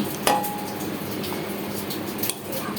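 A metal spoon clinks against a cooking pot while gravy chicken, cooked with ghee and fried onions, is scooped out and served; one sharp ring near the start, then soft scraping and a second clink later, close and fairly quiet.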